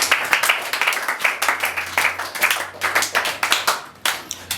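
A church congregation applauds in a loud, sustained burst of rapid clapping for several seconds, with a brief dip near the end before it swells again.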